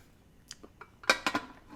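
A metal lid set onto a pressure cooker of lamb vindaloo curry in a home kitchen: a few sharp metallic clinks and clatters, loudest in a quick double knock near the end, close and alone.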